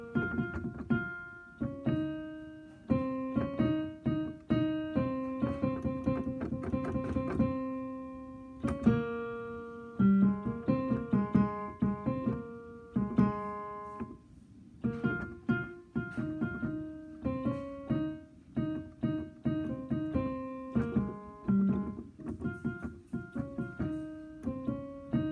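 A piano plays a song's melody with the right hand only, a lively repeating single-line tune of short, clear notes in the middle register, heard alone at close range.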